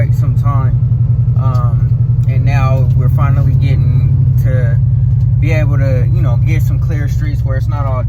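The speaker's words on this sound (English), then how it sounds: "we are driving the Impala" A 1995 Chevrolet Impala SS driving on streets recently cleared of snow, its engine a steady, loud low drone heard from inside the car beneath near-continuous talking.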